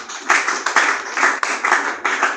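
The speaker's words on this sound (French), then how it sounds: "Acclamons pour les rois des rois." Rhythmic clapping from an audience at a French-language youth conference, steady rounds of hand claps in an even beat, close and fairly loud, with no talk.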